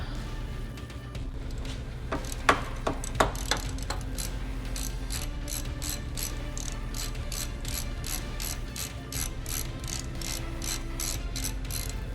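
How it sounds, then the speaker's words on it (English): Ratchet wrench clicking steadily in close, even bursts while backing out bolts under the hood of a Subaru Ascent with a 2.4L turbo engine, with a couple of sharper knocks early on and no talking. "I'll go ahead and take these couple of bolts out"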